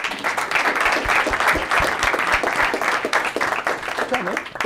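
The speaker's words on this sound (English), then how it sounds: "A huge round of applause again for all of our teams" An audience at a startup pitch competition claps continuously for several seconds, a dense steady applause with some voices mixed in.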